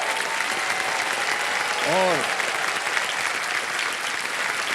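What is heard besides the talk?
studio audience applause on quiz show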